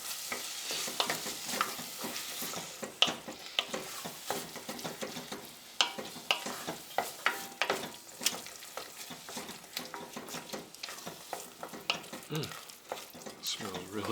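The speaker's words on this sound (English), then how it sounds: "Kind of get that pumpkin sauteed a little bit with the onions and the spices" Pumpkin sautés with onions and spices in a pot, a soft steady sizzle broken by frequent scraping stirs of a utensil, fairly quiet and close with no voices.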